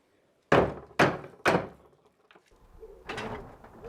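Large barn doors are hauled open: three heavy wooden thunks in quick succession, then a rumbling slide and scrape as they swing, close by and with no talking.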